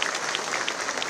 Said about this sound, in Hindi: तालियां जरूर बजा दें आपको।